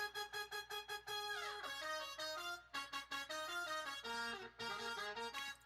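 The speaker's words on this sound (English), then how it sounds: "We have all these horns coming in. Sounds like this." Synthesized fake trumpet horns in a Logic music session, a bright section of short staccato stabs followed by a sustained line that scoops downward, then more punchy repeated hits and another falling phrase, loud and up front.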